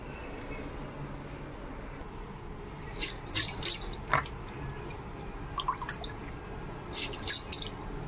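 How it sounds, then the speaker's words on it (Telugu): Mung dal lentils being washed in water: soft sloshing with scattered drips and splashes in short bursts, quiet and close. "పప్పునైతే శుభ్రంగా కడుక్కున్నాను."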